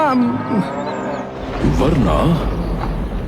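A buffalo moos in a Hindi cartoon scene, a low drawn-out call, loud and close, with voices speaking around it.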